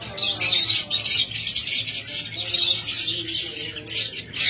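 Caged pet lovebirds, budgerigars and cockatiels chirping and calling together, a dense overlapping chatter of shrill tweets close by, loud and continuous with no talk.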